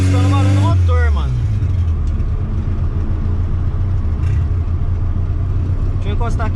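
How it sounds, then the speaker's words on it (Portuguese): Car engine of a turbocharged Volkswagen Gol with a suspected fault, a steady loud low rumble heard from close inside the moving car after a brief higher whine at the start, continuous throughout. "tá escutando barulho do motor?"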